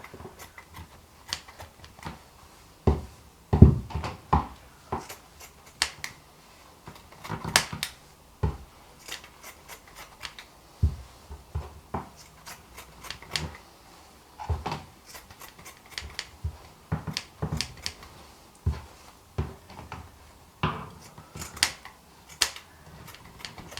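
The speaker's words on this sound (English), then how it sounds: "just cut it into 8 equal strips" Scissors snipping through fabric to make eight strips for a no-sew octopus, close crisp cuts in irregular bursts over about twenty seconds with short pauses between them.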